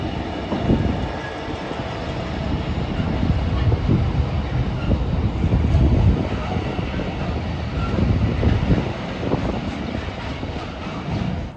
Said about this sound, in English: I got distracted filming a freight train